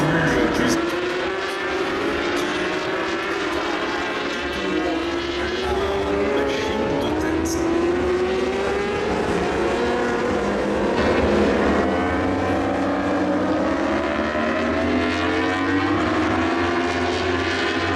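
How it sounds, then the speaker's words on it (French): Racing motorcycles, including Super Stock bikes at the 24 Hours of Le Mans motorcycle endurance race, roar past in a continuous high-pitched drone, rising and falling as they speed by, with a French commentator talking over them. "Et la moto de tête des Super Stock Loris Cresson à peine"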